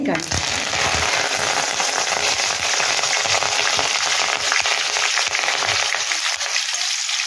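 Curry leaves and two green chilies sizzle in hot oil while a makai chivda snack with cashews, groundnuts and copra is fried, giving a steady, close, loud crackling hiss with occasional stirring throughout.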